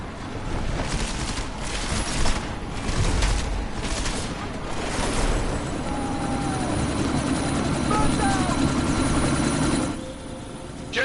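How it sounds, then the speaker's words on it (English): A helicopter lifts off in the Deus Ex video game, its loud, steady rotor thrum and engine roar filling the scene without letup, mixed with bursts of gunfire-like crackle. "That chopper's about to take off!"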